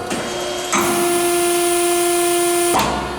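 A Neff D4-5M down-acting C-frame bench hydraulic press brings its ram down and holds, making a steady hydraulic whine with a strong tonal hum that starts abruptly, sustains evenly up close, then cuts off.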